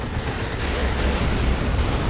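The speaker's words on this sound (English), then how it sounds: "Another creeping barrage here." Artillery creeping barrage in Dawn of War 2, a continuous low rumbling roar of distant explosions blending together without distinct individual blasts.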